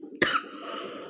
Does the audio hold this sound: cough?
yes